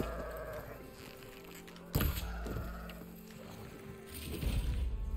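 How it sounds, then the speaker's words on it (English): Bighorn sheep bleat faintly in the wilds of the video game Horizon Forbidden West, soft calls over a low ambient rumble, with a sharp knock partway through and louder environmental noise toward the end. "Bighorn sheep."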